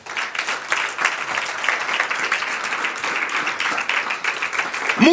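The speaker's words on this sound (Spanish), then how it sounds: "Dele un aplauso al Señor." A church congregation applauds steadily and continuously, a dense wash of clapping that fills the whole stretch at moderate volume with no voices standing out.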